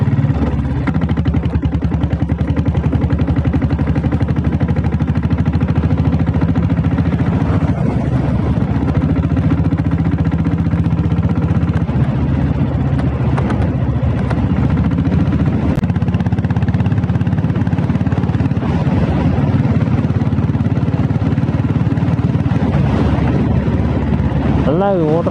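A company-built 7.5 HP diesel Bullet motorcycle engine runs steadily while being ridden, a continuous low rumbling drone lasting throughout, with someone talking over it.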